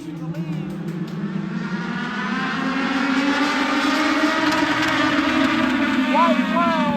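Race cars at Charlotte Motor Speedway roar past in a steady, loud engine drone whose pitch shifts as they pass.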